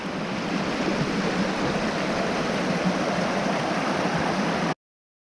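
A mountain brook in New Jersey rushes steadily over rocks, a close, constant broadband roar of flowing water with no voices, cutting off abruptly at the end.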